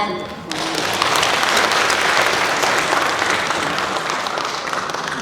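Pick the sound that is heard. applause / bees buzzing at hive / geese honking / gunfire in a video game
applause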